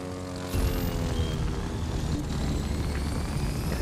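An airplane flies in the racing game The Crew 2, its engine rising into a steady drone after a short lead-in, with whining tones sweeping upward over the sustained roar.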